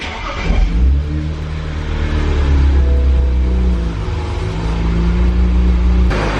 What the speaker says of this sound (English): let's just go ahead and turn on the car